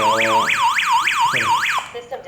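A DIGOO DG-HAMA home security alarm siren wails loudly in rapid rising-and-falling sweeps, about six cycles, with a steady tone underneath, then cuts off abruptly near the end.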